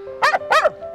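A rescue dog gives two short, loud barks about a third of a second apart, close by, with no one talking over them.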